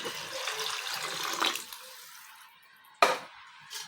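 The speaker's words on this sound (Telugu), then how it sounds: "ఇప్పుడు గ్లాస్ వాటర్ పోసుకోవాలి" Water from a glass poured into a pot of red lentil dal: a steady splashing pour close by that fades out, followed by a single sharp splash and a brief last trickle.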